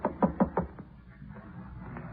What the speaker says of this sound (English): Go ahead and knock.